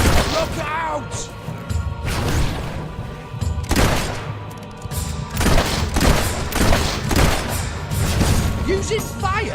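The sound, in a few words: fire attack in Fable 3 video game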